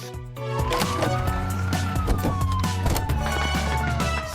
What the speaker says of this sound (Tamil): போலீஸ் கார்கள் மின்னும் விளக்குகளும் பேரிரைச்சலான சைரன்களும் கொண்டவை.